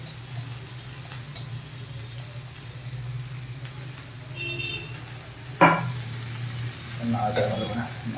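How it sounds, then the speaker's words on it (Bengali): Chicken wings and leg pieces for soup fry in a pan, giving a low steady sizzle, one sharp metallic knock, and then a louder stretch of stirring near the end. "নাড়িয়ে লাল লাল করে ভেজে নিতে হবে"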